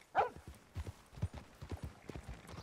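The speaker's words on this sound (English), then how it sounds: "Get your horse up here." Horse hooves in the video game Red Dead Redemption 2, quiet clip-clop steps that fall in an uneven walking rhythm, with faint background sounds.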